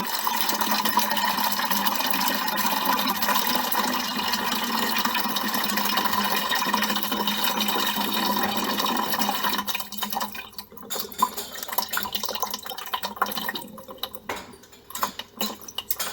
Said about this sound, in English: And you should get a decent amount of water.